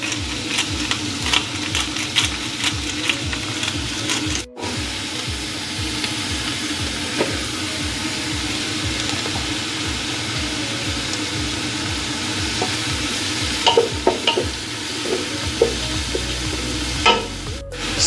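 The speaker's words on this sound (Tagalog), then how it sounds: "That's how I'm sauteing." Ingredients sautéing with salt and crushed pepper for Filipino paksiw na pata, a loud continuous sizzle with rhythmic stirring scrapes and a sharp clatter partway through.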